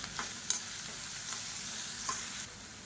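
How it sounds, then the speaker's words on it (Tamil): Onions and green chillies sauté in a pan for sambar, a low, even sizzle with a few light stirring taps, fairly quiet and close, with no voices. "வெங்காயம், பச்சை மிளகாய் எல்லாமே லேசாக வதங்கிடுச்சு"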